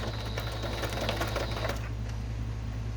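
A sewing machine runs a short back stitch on floral fabric, a fast steady mechanical whir close by that stops after about two seconds, leaving a low hum.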